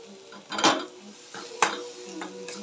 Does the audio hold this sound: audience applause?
no